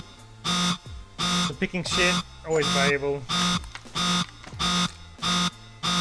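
A loud electronic alarm buzzes in repeated regular bursts in the survival video game Scum, each roughly half a second long, with someone talking over it between and during the pulses.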